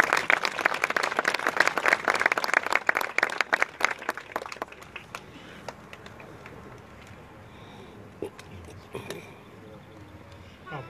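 A crowd at an outdoor park dedication applauds the mayor, loud dense clapping for about four seconds that thins to scattered claps and quieter ambient noise.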